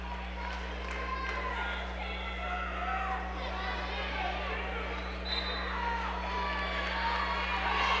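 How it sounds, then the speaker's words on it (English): A high school wrestling semifinal crowd in a gym cheers and roars steadily under a commentator's voice, with a constant electrical hum beneath the noise. "Burlington crowd on their feet."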